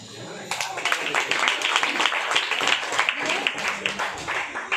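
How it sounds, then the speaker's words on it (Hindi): A small group at a house blessing claps hands in quick bursts of irregular claps mixed with voices. "उसके लिए ताली हो जाए।"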